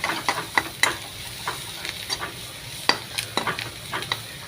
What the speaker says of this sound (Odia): ନିମ୍ବ କଢ଼ ବର୍ତ୍ତମାନ ଭଜା ଟିକେ ଚାଲୁଛି, ଟିକେ ଅପେକ୍ଷା କରନ୍ତୁ।